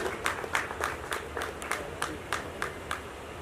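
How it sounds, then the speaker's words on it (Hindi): A modest round of applause at an Indian song launch event as a guest is welcomed to the dais, with distinct rhythmic claps that are faint and somewhat distant. "रूमी जाफिर साहब से गुजारिश करता हूं पुरजोर तालियों से इस्तकबाल करें तो डाइस पर तशरीफ ले आए"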